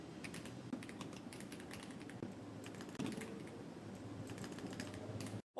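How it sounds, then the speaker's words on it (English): Typing on an Aula F87 budget mechanical keyboard: fast, irregular clatter of keystrokes at close range, fairly quiet, with brief pauses and no talking, ending in a sharp cutoff. "Right now, I'm going to do a typing test."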